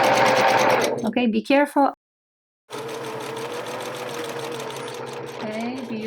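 A sewing machine stitching the waist of a pair of jeans runs loud and close, halts briefly for a back stitch, then resumes its steady whirr, with a short spoken word during the pause.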